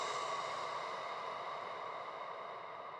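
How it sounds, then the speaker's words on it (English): Breath sample from a sample pack used as a downlifter in a techno track: a steady, soft airy hiss lasting about three seconds, faint and alone, gently fading toward the end. "the last sound is just a breath sample that I just found in a sample pack"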